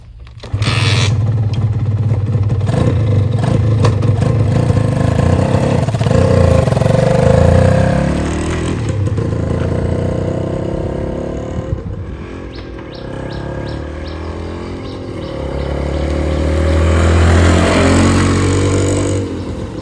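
A Honda NSR RW150 motorcycle on a test ride, its two-stroke engine revving up and down loudly and close, pitch rising and falling with throttle, with faint bird chirps in the background and no talking.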